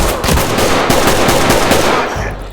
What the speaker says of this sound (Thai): พี่ยิงตัวประกันเหรอ